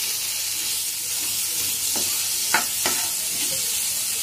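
Thin, long-sliced potatoes fry in a pan for a Bengali katla fish curry, giving a steady sizzling hiss with a few brief stirring scrapes near the middle.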